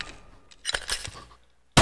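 Suppressed guns firing in Garry's Mod: a short cluster of muffled, snapping shots in quick succession, then a pause and a sudden loud burst at the end.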